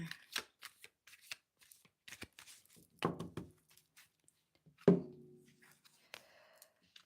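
Thick tarot cards are shuffled by hand, producing separate close bursts of papery riffling and shuffling with a few louder thumps as the deck is squared, in quiet surroundings.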